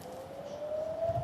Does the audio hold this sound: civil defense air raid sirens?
yes